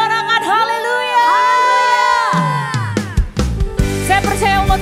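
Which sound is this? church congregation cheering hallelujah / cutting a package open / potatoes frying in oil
church congregation cheering hallelujah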